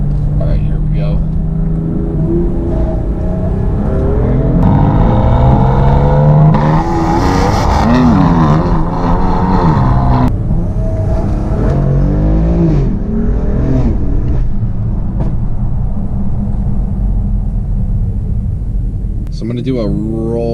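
A tuned BMW M4/M3 with the S55 engine and anti-lag setup accelerates hard from a rolling start, its exhaust a loud, sustained roar that climbs and surges in waves for the whole stretch.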